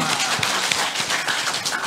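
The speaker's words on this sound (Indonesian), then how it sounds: "Tepuk tangan semuanya dulu untuk kita semua." A crowd claps along at an Indonesian talk or gathering, a busy continuous patter of many hands, fairly loud and even for the whole stretch.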